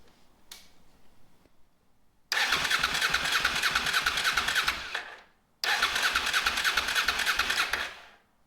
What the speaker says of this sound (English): let's cut it on and see if we get some fuel spitting out